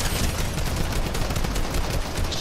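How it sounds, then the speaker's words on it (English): Rapid gunfire crackles from behind in a video game, a dense, continuous run of close, sharp shots filling the whole moment with no pause. "Shots from behind!"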